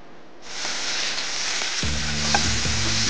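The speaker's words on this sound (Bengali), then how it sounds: "প্রথমে যে সসেসগুলো নিয়েছি ওগুলোকে হালকা করে ভেজে নেব খুব অল্প তেলে" Sausages fry lightly in a little oil. After a quiet start a hiss builds, then a loud, close sizzle takes over with some stirring clatter, continuing steadily without talk.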